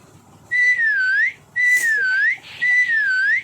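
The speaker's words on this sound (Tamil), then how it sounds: "எத்தனை விசில் அடிப்போம் உனக்கு?" Players in a Roblox game whistle three times in a row, each a clear, loud rising-and-falling whistle with short pauses between, close up and with no talking.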